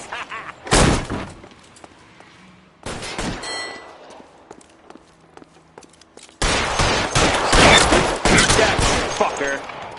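Gunfire erupts in bursts during an L.A. Noire shootout: a sharp volley early, another cluster around three seconds, scattered shots, then a loud sustained fusillade from six seconds to the end.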